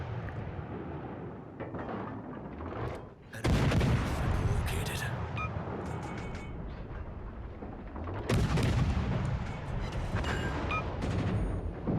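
A ship's gun fires in a naval warfare game: two heavy, close booms a few seconds apart, each followed by a long rolling rumble over constant background noise.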